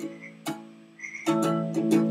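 A phone ringtone imitating a croaking frog, heard as a few short croaky bursts that grow louder and more frequent toward the end, close by in a quiet country setting.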